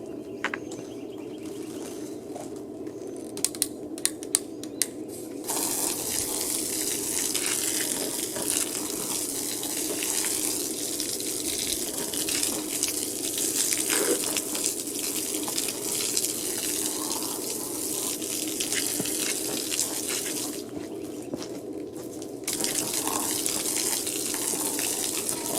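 Running water gushes steadily from a hose or tap to rinse off dirty equipment such as wheel rims, a continuous wash that carries on alone for most of the stretch, with no talking over it.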